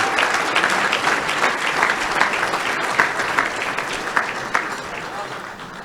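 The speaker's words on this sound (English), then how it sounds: "can we give a big round of applause for our athletic director?" Sustained applause from a crowd at a football banquet honoring the athletic director, dense steady clapping that fills the room and tapers slightly toward the end.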